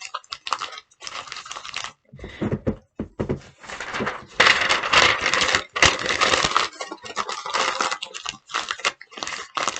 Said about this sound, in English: So crumble some paper up.